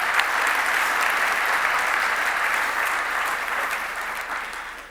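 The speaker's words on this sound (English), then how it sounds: "let's give these board members a big round of applause" An audience claps loudly and steadily for several seconds, the applause slowly tapering off toward the end.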